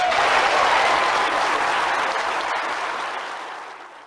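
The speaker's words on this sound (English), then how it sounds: "that still sends goosebumps down my spine when I hear that cheer" A crowd applauds loudly at a fossil auction, dense sustained clapping that gradually fades out over a few seconds.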